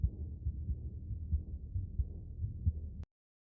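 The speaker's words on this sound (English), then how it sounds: "You just hear the heart beating." A steady, muffled heartbeat thumps in a low, regular rhythm for about three seconds, then cuts off abruptly with a sharp click into silence.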